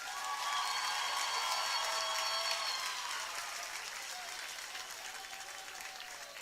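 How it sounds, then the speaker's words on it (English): Crowd applause at a high school homecoming football game: broad clapping and some cheering from a large crowd, strong at first and slowly fading, with an announcer's voice faintly mixed in. "Let's give a huge round of applause to our entire homecoming board real quick."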